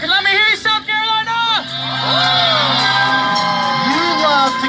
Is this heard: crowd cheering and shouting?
yes